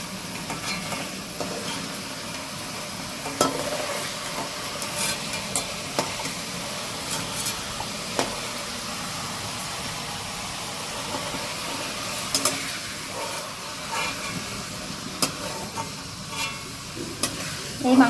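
Chicken meat fries in hot oil and is stirred in a pan. A continuous sizzle runs throughout, broken by scraping stirs and scattered crackles.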